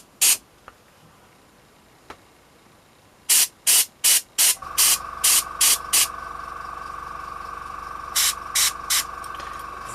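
Paint is sprayed onto a Blood Angels Death Company Jump Intercessor miniature in short, sharp hissing bursts, first isolated and then in quick rhythmic runs over a steady mechanical hum.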